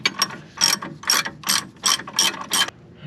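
Bolts being tightened back up on a 50-year-old Volvo 164e with a ratchet, about eight quick bursts of close, loud clicking in a steady rhythm.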